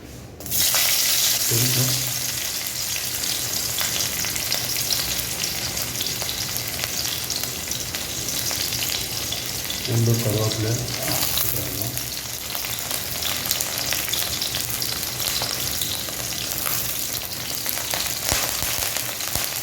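Onion and curry leaves fry in hot oil with a constant close hiss for the avarakkai poriyal, broken by a couple of brief low clunks from the pan, with no voices.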